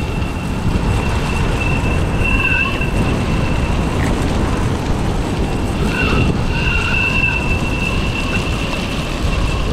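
A Vestar CitySUV off-road electric skateboard rolls over gravel and rocks, making a loud, steady, gritty rumble that holds without a break, with no one talking.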